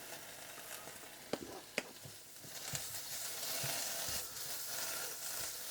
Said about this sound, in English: I'll just let them saute for a minute in that.